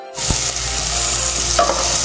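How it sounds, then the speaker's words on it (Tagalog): Squid ink sautés in a pan for squid adobo, a loud, steady sizzle with a few scraping stirs of a utensil across the pan. "pwede na natin ilagay itong igisa itong tinta ng pusit"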